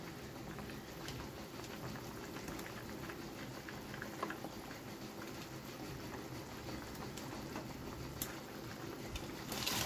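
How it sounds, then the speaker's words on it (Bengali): Curry gravy for raw banana kofta simmers in a pot, giving a faint, steady bubbling and popping patter that continues evenly without any voices. "ঝোলটা ফুটে গেছে"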